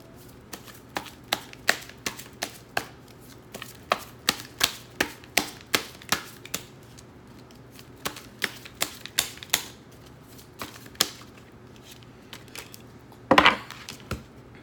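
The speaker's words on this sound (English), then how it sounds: "I will shuffle for the sake of shuffling" Cards being shuffled up close: irregular sharp taps and slaps in a steady run, then a brief dense riffle near the end.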